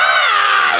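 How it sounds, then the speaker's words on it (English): Screaming with echo in the Phoenix Wright Ace Attorney: Dual Destinies video game, a shrill, sustained, crowd-like wail with layered reverberant tones that holds steady at a loud level. "Wow, I'm hearing screams and echo now."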